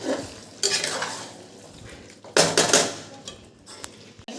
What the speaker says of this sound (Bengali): একটু আলুটা দিয়েছি তো একটু নেড়ে নিয়ে আমি জল দিয়ে দেবো